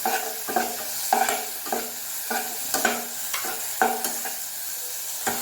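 Ginger garlic paste frying and being stirred in a pan, with repeated close scraping strokes roughly every half second over a steady sizzle.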